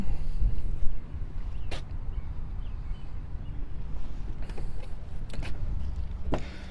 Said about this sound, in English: you got your buttons right here to open and close the door. So let's close that right up